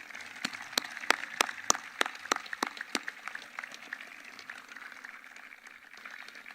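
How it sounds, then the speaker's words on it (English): Scattered audience clapping at a 2021 high school graduation ceremony, honoring teachers and parents; a handful of sharp claps start fairly close, then thin out and fade to a faint patter. "please rise and give a round of applause to your teachers and parents who have done so much for you"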